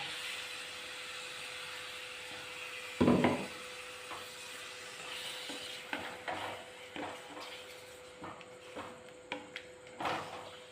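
Ground coconut with turmeric is sautéed in a pan for a mushroom curry, a quiet low sizzle followed by a loud spoon clatter and then a run of scattered scraping and stirring knocks, close with no talk.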